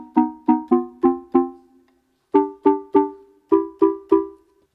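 Preset tone on a Qun mk2 synthesizer playing short plucked notes in quick even groups, five then three then three, each decaying fast, clear and moderately loud with no talking.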